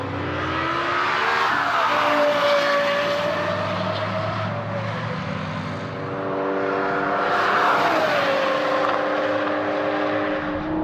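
A Lexus LFA's V10 engine revs in two long, loud swells, climbing to a sharp high wail and easing back before surging again, heard up close with no voices.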